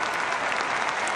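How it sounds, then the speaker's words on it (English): A crowd of American high school students applauds Pope Leo during his live address, a loud, dense, steady clapping that fills the whole moment without a break. "Maybe you should all give yourselves a round of applause"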